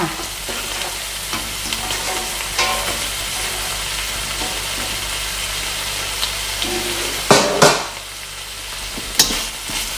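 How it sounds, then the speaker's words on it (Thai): Continuous loud sizzling of long beans being stir-fried in a hot pan with chili paste and crispy pork, with occasional scraping and clanks of a utensil against the pan. "ผัดพอให้ถั่วฝักยาวนะคะ นิ่มลงไปนิดหน่อยเนาะ"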